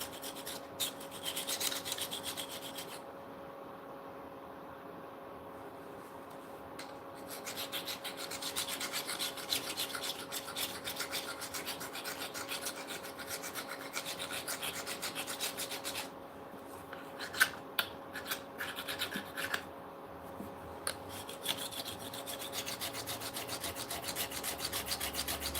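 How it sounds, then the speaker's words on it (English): Surface rust being scrubbed off metal hand tools, a steady rasping rub that runs almost continuously with brief pauses and a few sharper scrapes, close and moderately loud, with no one talking. "Get that rust, the surface rust off."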